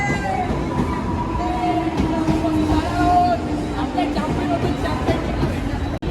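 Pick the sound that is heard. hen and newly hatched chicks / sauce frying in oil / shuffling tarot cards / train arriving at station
train arriving at station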